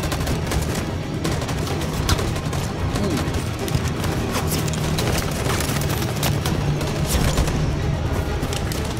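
Dense gunfire from a large street battle in the video game Detroit: Become Human, with continuous overlapping shots and booms forming a loud, steady barrage.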